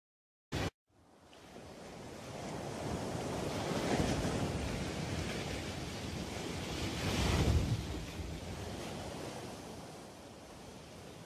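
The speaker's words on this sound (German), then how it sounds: "die Meere und Ozeane." Ocean waves and surf roll in after a brief sharp noise, a broad wash of rushing water and wind swelling twice to louder crests, steady and alone without speech.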